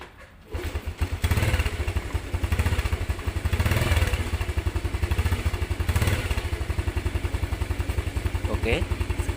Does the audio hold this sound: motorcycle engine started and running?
yes